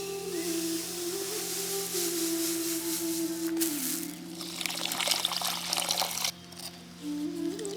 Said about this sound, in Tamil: கொஞ்சம் தண்ணி ஊத்தி தினையை ஊற வச்சிடலாம்